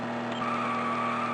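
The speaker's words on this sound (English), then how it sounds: "That's a nice engine sound." A car engine in the Game Boy Advance racer Need for Speed Carbon: Own the City, a steady buzzy synthesized tone holding a constant pitch, briefly and alone.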